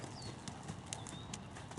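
Horse hooves clip-clop at a trot during a training session, an even steady rhythm of fairly soft, mid-distance beats over a constant background with no talking.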